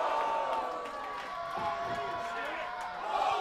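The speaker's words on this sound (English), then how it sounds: "Listen to this crowd." Wrestling fans roar and cheer during a women's match at a live indoor show, a broad crowd swell heard at some distance with scattered whoops, partly under a commentator's voice.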